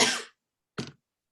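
Two short coughs from a person, close to the listener, the first longer and breathy, the second brief and sharp after a pause, with no talking.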